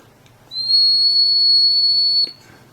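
A single thin, high-pitched whistling tone from a small church pipe organ pipe blown by mouth, steady for nearly two seconds before cutting off, with faint background noise.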